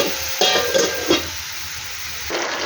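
Potatoes with water added sizzling and hissing in a pan, a burst of steamy frying that starts abruptly, spikes briefly, then settles into a quieter hiss before rising again.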